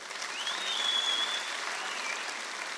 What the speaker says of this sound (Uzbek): trassaga qatnaydigan taksistlarga bitta qarsak chalinglar